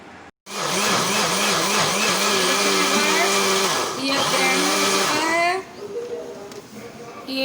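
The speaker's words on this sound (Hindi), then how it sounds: "अब हम इसको ग्राइंड कर लेंगे।" Mixer grinder whirring as it grinds a yogurt and black pepper marinade for chicken, a loud high motor whine in bursts with pitch wobbling and dipping, then winding down at the end.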